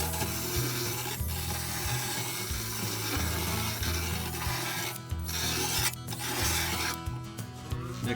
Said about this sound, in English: For deburring, I'm just using a stone in my drill.